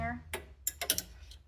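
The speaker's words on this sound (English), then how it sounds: "we're gonna get a coat hanger, a metal coat hanger, and we're gonna try to wiggle it down through to see if we can get it to drain" A metal coat hanger wiggled and scraped down a clogged BMW convertible drain: a few short, close metallic scrapes and clicks in quick succession, after a brief voice at the start.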